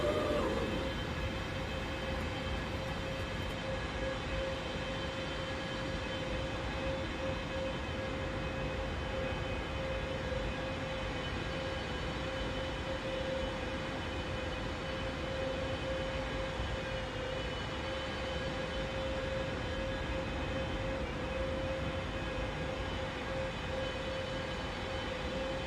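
A replay of an aircraft landing in Microsoft Flight Simulator on the Tuxtla to Puebla route, a constant loud engine drone with a steady whine held throughout, unbroken and without talk.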